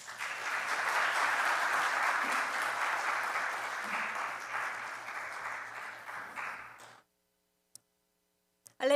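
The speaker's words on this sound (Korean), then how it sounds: "나오실 때 박수로 격려해 주십시오." Church congregation applauding as a preacher comes forward, dense clapping that swells early, slowly thins and stops abruptly, leaving near silence with a couple of faint clicks.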